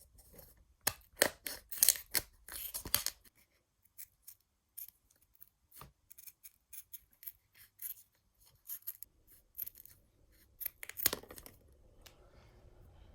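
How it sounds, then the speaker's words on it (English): Scissors snip through material to cut out a shape, a quick run of crisp close cuts at first, then a quieter stretch of scattered clicks and rustles before another brief burst of snipping. "I'm going to get a pen and just cut that and cut this shape out."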